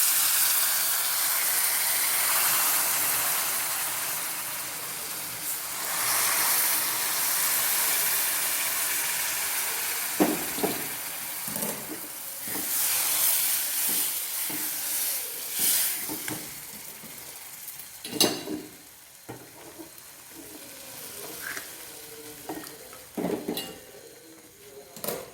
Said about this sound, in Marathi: आता मी यामध्ये थोडंसं कोमट करून घेतलेलं पाणी घालणार आहे